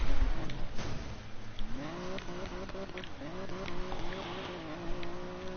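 A car engine in the racing video game Need for Speed Payback revs and shifts through gears during nighttime driving, a droning tone that rises and falls steadily, with game background noise.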